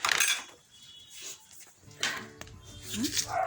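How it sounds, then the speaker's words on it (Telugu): Snack mixture for tikkilu stirred in a bowl, with scattered clinks and scrapes of a spoon against the dish in short bursts; a voice briefly speaks near the end. "వేసుకొని దీనిలో కలిపేసుకుందాము ఇలాగా కలుపుకొని"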